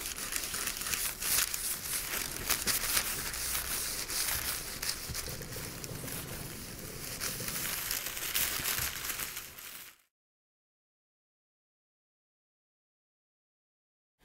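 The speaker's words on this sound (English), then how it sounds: "I'm just going to finish off by using a piece of tissue paper, which I'm gently going to clean up" Tissue paper is rubbed gently over a drypoint printing plate to clean off marks, a continuous close papery crinkling and rustling for about ten seconds before falling silent.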